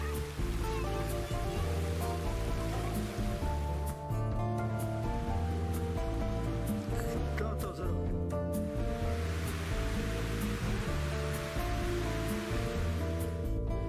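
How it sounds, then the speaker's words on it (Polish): A mountain stream called Biały Potok rushes between rocks below a beach before joining the Opawa river, a loud, continuous watery roar with a voice speaking over it. "Właśnie tu, poniżej plaży, Biały Potok kończy slalom między skałami i wlewa się do średniej Opawy."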